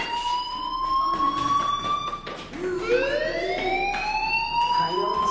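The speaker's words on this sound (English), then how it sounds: "Hey, do you hear that fire alarm?" An electronic fire alarm blares inside a video game, a loud, steady wail of stacked tones that sweep and slide in pitch and repeat without pause, with no talking over it.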